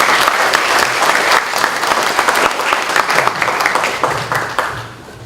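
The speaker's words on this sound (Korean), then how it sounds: "우리 큰 박수로 축하드리겠습니다." A church congregation at a Sunday worship service breaks into loud applause, a dense, sustained roar of many clapping hands that holds steady for several seconds and then tapers off at the end.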